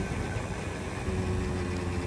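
A 1978 Garelli Super Sport XL moped engine idles steadily while the brakes are applied, a close, continuous low putter with slight vibration and no voices.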